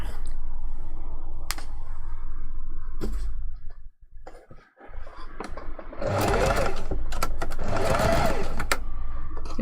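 A sewing machine stitches a fursuit kitsune fox tail, running in steady bursts close by, with a short pause in the middle before two louder, longer runs.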